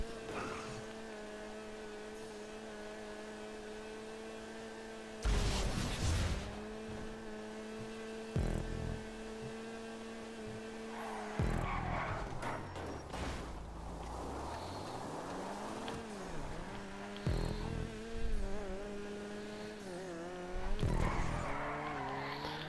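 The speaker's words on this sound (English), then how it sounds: "This is my custom mini that I'm actually driving now." A custom Mini races in Grand Theft Auto Online with a steady engine drone that revs up and down, broken by several loud bursts of tire squeal and skidding.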